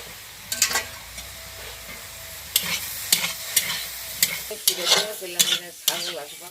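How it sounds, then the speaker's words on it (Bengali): Leafy greens with coriander leaves and a little salt are stir-fried in a pan: a soft sizzle with sharp, close scrapes and clacks of the spatula that come faster toward the end, no voices. "এই যে আমার শাকটা ভাজা হয়ে গেছে"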